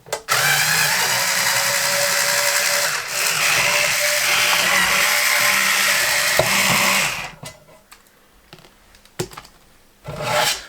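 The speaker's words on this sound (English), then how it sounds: "I'll be bringing out my old friend Mr. Electric Screwdriver." An electric screwdriver whirs and grinds while backing screws out of a 1500VA step-up/step-down transformer casing, running loud and steady for about seven seconds, then stopping, followed by a few faint clicks and a brief final burst.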